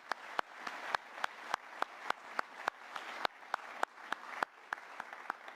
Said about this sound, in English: Can we just give a big round of applause to all of the artists as well who are so deserving?